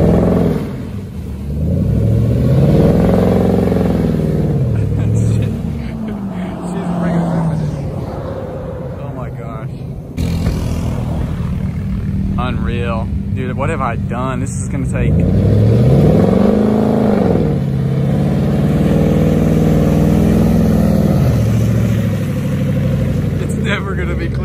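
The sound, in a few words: 2018 Chevrolet Silverado truck mudding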